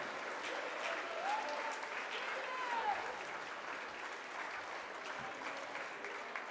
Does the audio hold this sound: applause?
yes